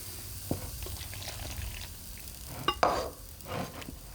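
Boiling water being mixed into blue cornmeal, a wet stirring and scraping in a bowl with a few sharp clinks and a louder slosh near the end, close by with no talk.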